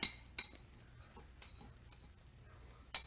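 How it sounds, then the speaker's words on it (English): A knife clinks and scrapes sharply against the rim of a casserole pan holding chili cornbread, several separate metallic taps spaced over a few seconds in a quiet kitchen. "going to take a knife and go around it"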